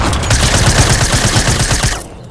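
Loud, rapid automatic gunfire from Fortnite rattles in one continuous burst of closely spaced shots, then cuts off abruptly near the end.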